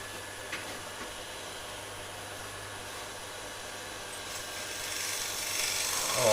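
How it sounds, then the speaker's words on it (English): A freshly sharpened gouge cuts into wood with a steady, even rasping scrape that swells louder near the end. "a freshly sharpened gouge"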